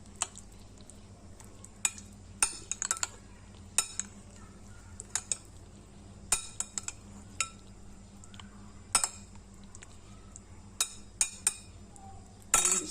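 A spoon scrapes and clinks against a bowl while ingredients for a dahi baray recipe are mixed, sharp irregular knocks and taps scattered over quiet gaps, close up and alone.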